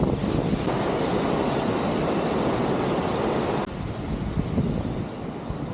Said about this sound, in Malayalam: അട്ടപ്പാടിയിൽ ഇങ്ങനെ ഒരു വെള്ളച്ചാട്ടം എന്ന് പറഞ്ഞാൽ നിങ്ങൾക്ക് വിശ്വസിക്കാൻ പറ്റുമോ?